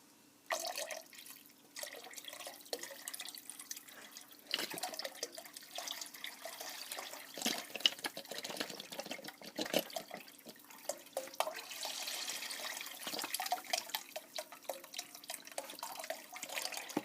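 Broth poured into a soup pot, a continuous close splashing and trickling stream with small drips and clinks throughout, moderately quiet and with no talk.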